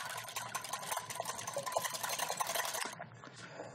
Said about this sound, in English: whisk in the oil